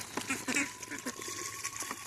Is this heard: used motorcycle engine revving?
no